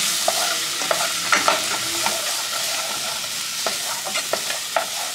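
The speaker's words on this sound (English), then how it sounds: "let's mix this up" Jambalaya is stirred in a hot pot, a continuous sizzle and frying hiss broken by repeated soft spoon scrapes and clacks against the pot, close and steady with no talking.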